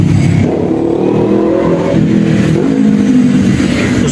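A QJ Motor ATR 160 scooter-style motorcycle after CVT maintenance revs loudly up close, its engine rising and falling in pitch through a couple of throttle blips with a strong low rumble throughout.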